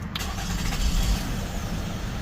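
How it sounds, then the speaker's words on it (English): A Toyota Avalon engine cranks and catches right at the start, then settles into a steady, close idle that fills the rest of the moment. "I could basically start the engine right now."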